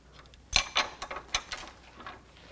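A socket ratchets tight on the lower control arm nut of a 2008–2014 Cadillac CTS while a 6mm hex socket holds the stud, giving a string of sharp metallic clicks and clanks, close and fairly quiet.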